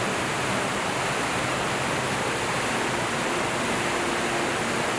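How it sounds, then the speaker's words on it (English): Victoria Falls, the vast waterfall plunging 108 meters into the Zambezi River gorge, roars as a dense, unbroken wash of loud rushing water with no pauses and no voices. "Victoria Falls is the world's largest waterfall by sheet flow. Plunging 108 meters into the Zambezi River Gorge."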